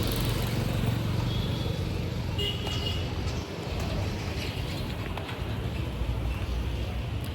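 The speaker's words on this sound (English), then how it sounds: "आप देख सकते हैं अभी बस जा रही है" A bus driving past on a busy road, a continuous engine rumble and road roar that swells and fades slightly as it passes, amid steady surrounding traffic noise with faint background voices.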